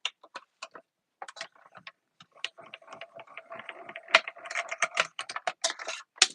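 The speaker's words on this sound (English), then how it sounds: "So we're just going to run this through the machine." A paper-crafting die-cut machine is hand-cranked as plates feed through, giving a close series of dry mechanical clicks and ratcheting ticks that gather into a denser grinding rattle toward the end.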